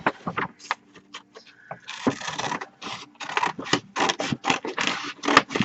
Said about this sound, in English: You're going to get a lot of crinkling